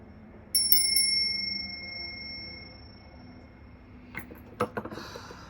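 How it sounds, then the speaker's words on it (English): A small bell rings out clearly, a few sharp strikes whose tone lingers and fades over a couple of seconds in a quiet room, followed by soft tapping and clicking. "I'm going to ring the bell."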